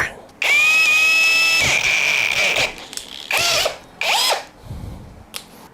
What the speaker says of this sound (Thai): ผมจะพลิกอีกด้านหนึ่งนะครับ แล้วเจาะ เจาะลงไป